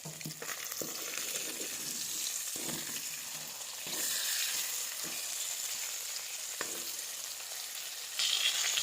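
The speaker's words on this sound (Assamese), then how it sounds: "ইফালে আকৌ এয়া মাছ ফ্ৰাই কৰি আছোঁ" Steady, close sizzling of fish frying in hot oil, a continuous crackling hiss with a few faint clinks and knocks along the way.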